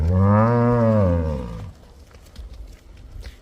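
A cow at a dairy farm with cows for sale gives one long, loud, close moo lasting over a second, then quieter farmyard background noise follows.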